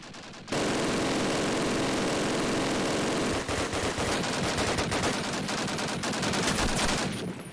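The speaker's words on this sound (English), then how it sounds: "With his last bullet killing Sly as it were." Gunfire in Call of Duty: United Offensive during a competitive cup match, a loud dense burst of rapid automatic shots that runs almost continuously for seven seconds, then breaks into fast clustered volleys with no voices over it.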